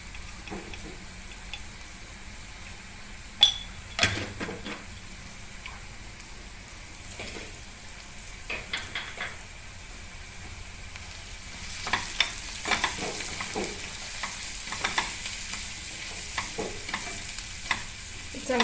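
Bitter gourd sautéed with Kashmiri red chili powder, a low steady sizzle beneath repeated scraping and clinking of a spoon stirring in the pan, growing busier toward the end.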